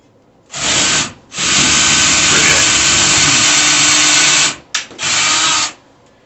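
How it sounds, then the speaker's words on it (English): A power drill bores into an old cracked plaster wall during a TV wall mount installation, running loud in a long continuous burst with a short break and a second brief burst near the end. "I am drilling right alongside an old crack"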